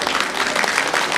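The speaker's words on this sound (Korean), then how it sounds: "그냥 박수 치실 거면 크게 한번 쳐주시기 부탁드립니다" An audience at a Korean book-launch celebration applauds, a dense, loud wash of many hands clapping steadily throughout.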